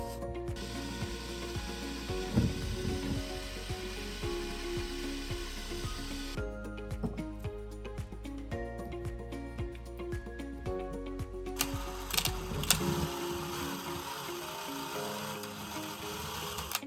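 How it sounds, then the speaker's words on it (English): A small power drill with a small bit whirs steadily for a long stretch into an eggshell, its pitch shifting as it grinds, with scratchy crackling bursts of contact along the way. "so here's the smaller drill bit"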